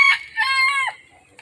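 A rooster crows once, loud and close, a drawn-out cock-a-doodle-doo rising and falling, then a faint cluck, from chickens roaming a citrus orchard during spring work.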